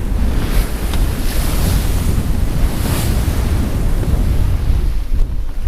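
Wind and ocean waves rush steadily around a double-reefed sailboat with a staysail at sea near sunset after a day of squalls, a loud continuous broadband roar of wind noise and surf with no break.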